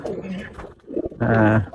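Giribaz pigeons coo nearby in a short, low, throaty burst, with a softer murmur before the main coo.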